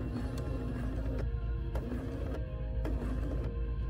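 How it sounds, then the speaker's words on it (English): A sewing machine runs steadily, stitching blouse fabric up to a pin, with a close, continuous mechanical hum and rhythmic clatter that pauses briefly several times. "she's gonna stitch right up to the pin"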